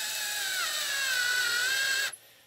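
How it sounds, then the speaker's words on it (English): A power drill drives Phillips head screws into an ATV speaker tube, a steady high whine lasting about two seconds before stopping abruptly, close and alone. "I'll run these things in with my drill."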